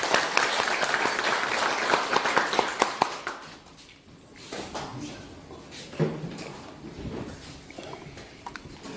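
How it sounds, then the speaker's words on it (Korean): A lecture audience applauds to welcome the speaker, dense clapping at first that thins out and fades over several seconds, with some voices in the background. "박수로 맞아주시기 바랍니다."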